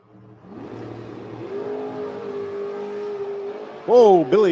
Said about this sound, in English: Billy Dunn in the left lane from Leesburg, Florida, and Dragster 221D